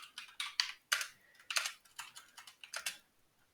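Keys clatter on a computer keyboard in short bursts of quick, crisp taps separated by brief pauses, close and fairly quiet.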